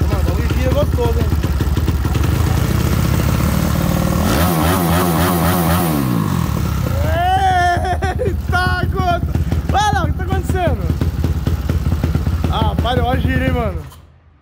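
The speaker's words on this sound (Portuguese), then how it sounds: "Rapaziada, olha o giro da moto" A Honda Titan 150 motorcycle modified to about 250cc idles loudly, then revs up and down in several sharp bursts, close by, before cutting off abruptly at the end.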